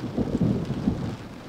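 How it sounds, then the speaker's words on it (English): Low rumbling thunder rolls through during a rainstorm over the Canadian Shield lake country, a couple of deep swells rising and fading over a steady wash of rain, with no talking. "Hear that thunder?"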